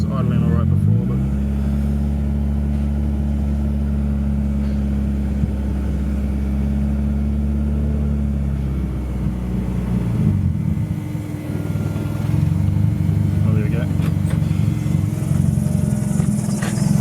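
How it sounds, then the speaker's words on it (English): A 1984 Toyota Starlet KP61 fitted with a turbocharged 4AGTE engine idles steadily and close by, a strong low rumble that shifts slightly partway through, with people talking over it. "I think once it gets warm, it does idle quite nicely."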